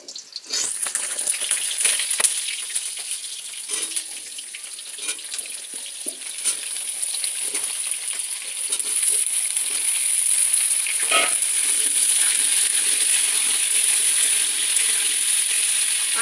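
Washed whole potatoes fry in hot oil in a kadai, giving a loud, continuous crackling sizzle with scattered spatters and stirring scrapes, with no voices.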